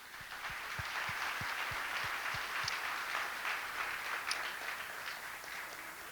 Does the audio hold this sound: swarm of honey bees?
no